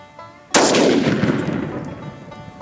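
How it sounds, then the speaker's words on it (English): A single 30-06 rifle shot fired into a 25-pound barbell weight plate outdoors, one sudden loud crack with a long rumbling decay that fades over about two seconds. "It took four shots from a 30-06, but we finally penetrated our 25-pound weight."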